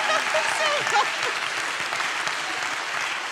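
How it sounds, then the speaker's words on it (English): An audience at a motivational seminar gives a big round of steady applause, dense clapping holding evenly, with a few voices rising briefly near the start. "Give her a big clap."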